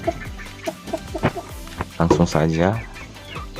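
Young five-month-old Mangon chickens cluck and chirp in short bursts close by, with a longer rising call near the end, while someone speaks briefly over them.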